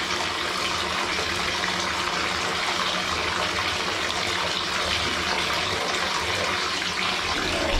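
Tap water gushes steadily into a container, filling it with about 3 to 4 gallons for washing a down quilt with Nikwax Down Wash Direct cleaner, a constant close splashing rush with no talk.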